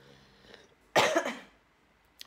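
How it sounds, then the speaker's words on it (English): A single harsh cough bursts out close by in an otherwise quiet room, followed by a brief faint click. "Sorry, I'm still getting over this cough."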